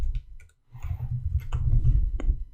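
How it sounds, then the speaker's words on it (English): A single mouse click on a Finish button in a software dialog, a few short faint clicks over a steady low hum with no voice. "And click finish."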